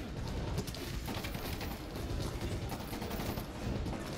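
Gunfire in Medal of Honor Warfighter, a dense, faint stream of rapid shots and crackling bursts running continuously, like a distant firefight with overlapping automatic weapons.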